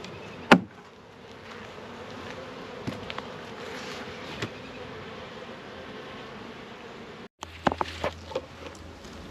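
Honey bees buzz steadily around an open beehive during a May hive check, a continuous close drone with a few sharper knocks and handling sounds near the start and end.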